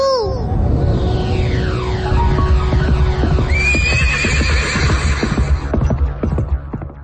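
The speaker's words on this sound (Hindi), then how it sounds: "रुक जाओ उड़न घोड़े, रुक जाओ राजू।" A flying horse in a children's radio story gives a long, loud whinny with falling, quavering pitch, then galloping hooves and a low throbbing hum build beneath more neighing, close and continuous.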